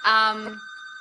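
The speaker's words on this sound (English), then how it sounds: "I apologize for the phone over there" A telephone rings once nearby in a room, a bright bell-like trill that decays quickly and leaves a faint lingering tone.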